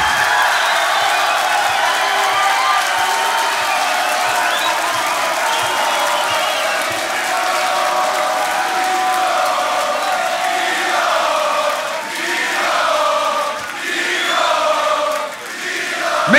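A large audience at a beatbox battle quarterfinal cheers, whoops and applauds loudly and continuously, the roar swelling and dipping in waves with some shouting near the end.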